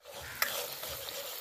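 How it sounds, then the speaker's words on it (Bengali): Tomato, turmeric, chili powder and salt sizzle and fry steadily in hot oil while being stirred, with a brief utensil scrape; a continuous close frying hiss with no talk. "এবার মশলাটা আমি ভালো করে কষিয়ে নেব।"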